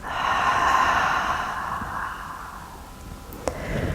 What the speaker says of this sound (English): we inhale through the nose, exhale through the mouth